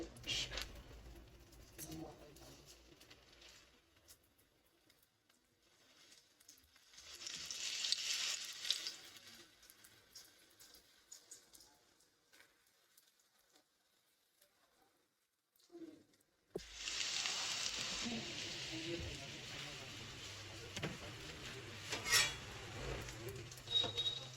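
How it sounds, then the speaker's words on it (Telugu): Onion pakoda frying in hot oil, a faint crackling sizzle that swells in two bursts as batter drops in, with light clinks of utensils and quiet gaps between. "ఆయిల్ వేడెక్కాక ఇలా పకోడీ వేసుకోవాలి"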